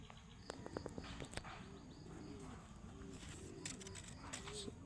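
Soft, repeated pigeon coos roll along over a noisy outdoor background, with a few sharp clicks and faint distant sounds.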